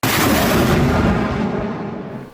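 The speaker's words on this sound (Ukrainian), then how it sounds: "Постріл!" A single heavy artillery boom with a long rumbling tail, loud and close, fading over a couple of seconds with no voices, at the front line.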